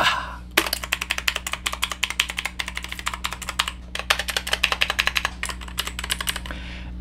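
Rapid, steady keystrokes on a ZIYOULANG K3 budget mechanical keyboard clatter close and crisp for several seconds, with a short pause midway over a low constant hum.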